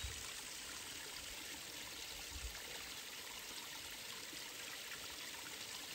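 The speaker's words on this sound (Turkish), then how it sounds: "Önce çek bir yayla suyu." Cold highland spring water running steadily, a continuous close trickle and babble of flowing water with no voices, holding at an even level throughout.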